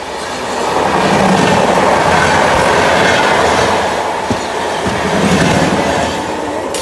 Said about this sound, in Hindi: यहाँ पर हम ट्रेन का 2 मिनट का स्टॉप था और डिपार्चर भी हो गया है